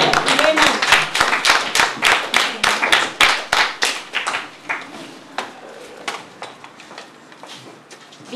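Clapping and applause from the audience at a school award ceremony for a Spanish Constitution competition. Rhythmic, fairly close hand claps at first, then they slow and thin out into scattered claps.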